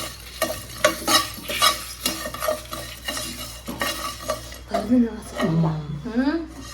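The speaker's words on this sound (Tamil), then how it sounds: "நம்ம ஒரு நல்லா அதில் வாசனை வர அளவுக்கு நம்ம நல்லா வறுத்துக்கலாம்" Mutton sukka fries in a pan with a continuous close sizzle and repeated stirring scrapes, while someone talks over it.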